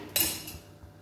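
A pressure cooker lid comes off a cooker holding roasting daliya, giving one sharp metallic clink followed by a fainter rattle and a soft knock, with no talking.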